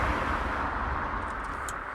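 Steady road rumble from inside a moving van, a broad continuous hum of engine and tyres on the road with no talk, level and unbroken throughout.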